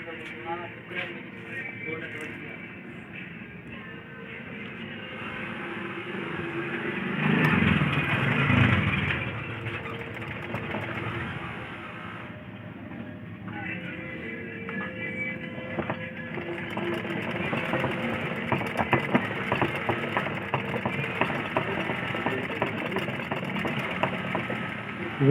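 A sewing machine with a freshly repaired bobbin case runs continuously, its rapid mechanical stitching clatter steady and close, briefly swelling louder partway through, with someone talking over it at times.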